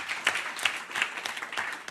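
A small audience at a local-government capacity-building session gives brief applause, with scattered claps blending into a soft, steady patter that lasts just a couple of seconds.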